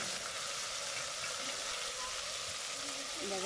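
Ground onion paste fries in oil in a clay pot for a village fish curry, giving a loud, steady, close sizzle and crackle that lasts throughout with no pauses.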